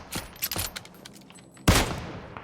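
Gunfire in the mobile battle royale game PUBG Mobile comes as a few close, sharp shots spread across the moment, ending in one loud burst.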